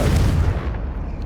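A Confringo fire spell blasts in Hogwarts Legacy on the Switch: one loud, close, dull booming burst that rumbles low and fades within about a second, with no talking.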